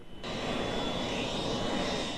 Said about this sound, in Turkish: Rıza Zarraf'ın uçağı 17 Aralık operasyonu sonrasında ilk kez havalandı